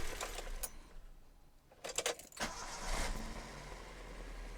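A Toyota engine being cranked and started with its air temperature sensor disconnected, heard as a few sharp clicks, then a brief cranking burst, before the engine settles into a steady, moderately loud idle.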